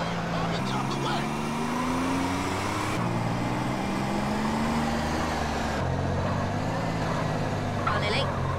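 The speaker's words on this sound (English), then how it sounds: "He didn't even turn off the motor." An engine left running in GTA San Andreas holds a steady drone that shifts pitch in stages, with game voices talking over it.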